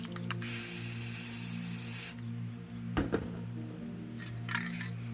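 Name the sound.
spray paint being sprayed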